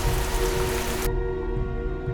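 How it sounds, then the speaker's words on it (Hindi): Heavy, stormy rain pours down steadily as a dense, loud wash of drops, with a low rumbling undertone running through the downpour. "तूफानी बारिश और तेज हो जाती है।"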